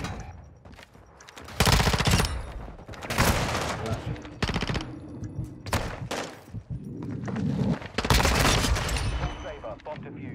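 Automatic rifle fire in a video game, a high-recoil SMG-style weapon: several loud, rapid bursts separated by short pauses, close up, with a voice talking faintly between them.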